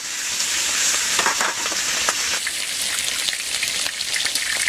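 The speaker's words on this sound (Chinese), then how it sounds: "五花肉倒进去，先把五花肉的油脂给煸出来。" Pork belly sizzling in a hot wok as its fat renders, a bright, dense crackle and spatter with scraping stirs, close and steady with no talking.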